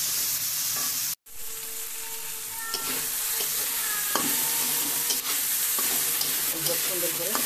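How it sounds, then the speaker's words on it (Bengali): Potatoes frying with turmeric, salt, sugar, cardamom, cinnamon and spices, a steady close sizzle broken by a brief silent gap early on, with scattered scraping and stirring clinks throughout. "এখন আলুগুলো ভালো করে ভেজে নেব"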